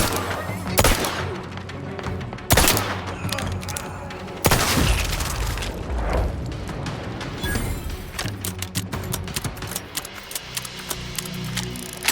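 Gunfire in the video game Outer Worlds 2, rapid bursts of automatic shots with sharp loud booms and cracks, close and dense, ringing out in quick volleys with brief gaps.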